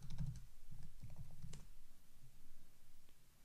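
Keys click on a Mac keyboard as a password is typed, a quick close run of soft taps followed by a few sparser presses, quiet and alone.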